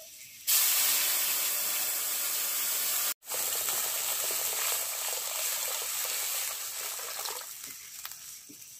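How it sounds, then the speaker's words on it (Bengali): Water poured into a hot pan of fried potatoes bursts into a loud, steady hiss of steam and sizzle that runs on for several seconds, briefly cut once, then softens as it settles; no voices. "আর এখন দিয়ে দিচ্ছি জল।"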